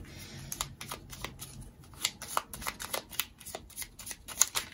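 Tarot cards are handled and shuffled close by, a run of quick papery riffles and soft slaps with uneven rhythm, alone and fairly quiet.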